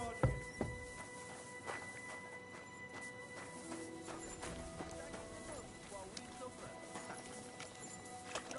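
Horse hooves clip-clopping in the medieval video game Kingdom Come: Deliverance 2, quiet irregular hoof steps over a low ambient game backdrop with a faint whinny, while someone talks softly.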